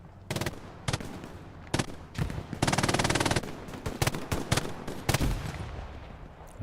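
MG42 machine gun firing in the WWII shooter Hell Let Loose, scattered single shots and short bursts, with one sustained rapid burst in the middle, loud and close amid battlefield noise.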